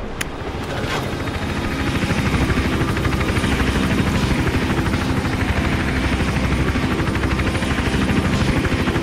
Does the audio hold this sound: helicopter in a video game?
yes